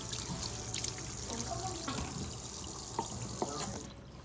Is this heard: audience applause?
no